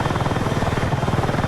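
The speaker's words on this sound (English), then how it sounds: "we'll get in the helicopter" A helicopter in the video game Battlefield 6 drones steadily with a fast, even rotor chop over broad engine noise, loud and close throughout with no talk.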